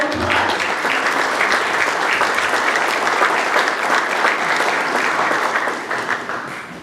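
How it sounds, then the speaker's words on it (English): An audience gives a loud, sustained round of applause for two students being honoured. The dense clapping stays strong, then tapers slightly toward the end. "just let them give you another round of applause"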